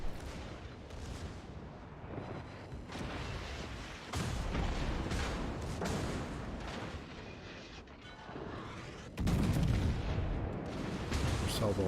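Heavy naval gun salvos from the Bismarck battleship in World of Warships, deep booming blasts rolling over a constant battle rumble, with a louder burst near the end.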